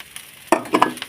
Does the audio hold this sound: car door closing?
no